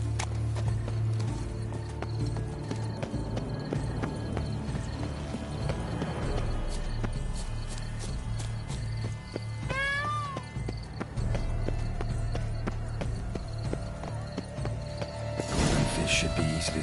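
Horse hooves clop steadily while riding on horseback in The Witcher 3, a continuous rhythmic patter under game music and ambience, with a brief whinny-like cry midway and voices talking.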